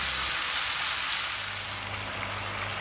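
Tengra fish frying in spiced masala in a pan, cooked village style in Bangladesh, gives a dense continuous hiss and sizzle, loud and close, with no talk over it.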